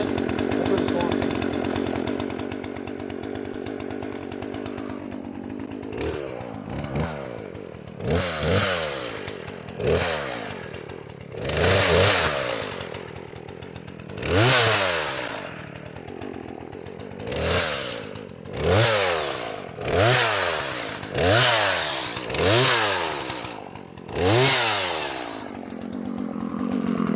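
A chainsaw cuts a firewood log, starting with a steady idle and then revving up and down repeatedly in loud, close bursts as the chain bites into the wood.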